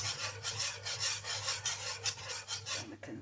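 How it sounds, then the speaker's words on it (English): A whisk scrapes rhythmically through thick mac and cheese sauce in a pan, a quick steady run of close rasping strokes with a brief pause and clink near the end. "I'm going to continue to whisk and get it all smooth"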